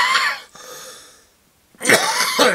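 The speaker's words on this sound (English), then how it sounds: "my coughing is not too bad at all" Two harsh coughing fits up close, separated by a short pause, each rough and throaty.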